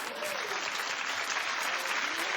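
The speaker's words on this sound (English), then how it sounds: "Keep clapping, everybody" Studio audience clapping on a daytime talk show, a dense continuous patter with faint voices mixed in.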